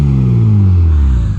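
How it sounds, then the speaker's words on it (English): A 1995 Ford Probe GT's V6 exhaust revs up loudly and close, a rising, raspy engine note that climbs steadily before easing off. "what's a Ford Probe video without a little bit of an exhaust rev?"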